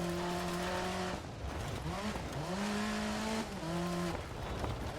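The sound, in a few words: rally car driving in video game DiRT Rally 2.0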